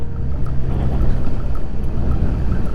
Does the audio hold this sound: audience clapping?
no